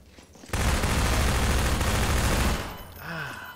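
Point-blank shotgun fire in Half-Life 2: a loud, close, roaring blast bursts in abruptly and holds for about two seconds before fading into quieter game noise.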